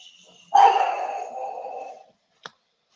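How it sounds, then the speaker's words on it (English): A pug barks once, a single drawn-out whining bark that tails off over about a second and a half, followed by a brief faint yip, in a quiet room. "My pug. I think she just woke up and started barking."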